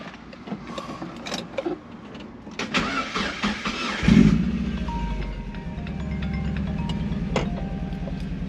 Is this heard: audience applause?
no